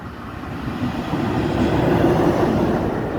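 An SMK diesel train of Kolej Bałtycka passes through Szczecin Zdroje station, a steady rolling rumble that swells gradually as it nears and stays loud, with no voices.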